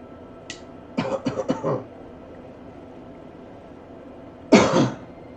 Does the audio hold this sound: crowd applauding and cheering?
no